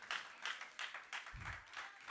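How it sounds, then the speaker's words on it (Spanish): A church congregation clapping for the Lord together in a steady, even beat, about four claps a second. The claps sound roomy and fairly faint, with no speech over them. "Dale palmas al Señor."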